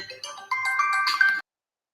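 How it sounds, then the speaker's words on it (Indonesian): Incoming phone call ringtone during an online teacher training session, a short bright electronic melody of rising tonal notes lasting just over a second, then silence. "Sebentar Kak ya, ada telepon sebentar."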